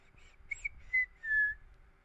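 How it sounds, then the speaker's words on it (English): A man whistles a few short bright notes and then one longer sustained tone, heard close and alone with no talking over it. "Got my whistle back a little bit."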